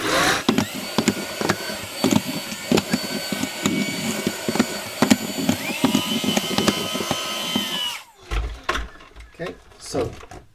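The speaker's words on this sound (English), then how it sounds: "And now for a change, let's use the big one, proper vacuum cleaner." A large vacuum cleaner runs with a steady loud motor whine and a rattle of debris, then cuts off abruptly after about eight seconds, leaving quieter handling noises.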